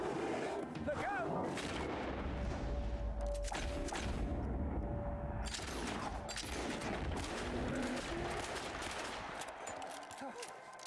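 Gunfire erupts in a live-streamed game: repeated shots and heavy booms, fairly faint overall, mixed under shouting voices.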